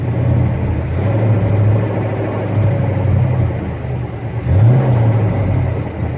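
A car engine runs and pulls away in first gear, a steady mid-pitched drone with a couple of brief revs rising in pitch, close and fairly loud, no talk.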